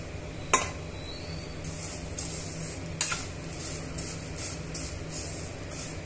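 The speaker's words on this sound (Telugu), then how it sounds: "ఈ నెయ్యిలో వేసి బాగా వేయించుకోవాలి" Semiya vermicelli fries in ghee in a pan while a metal spoon stirs it, with scraping and sharp clinks against the pan over a faint low sizzle.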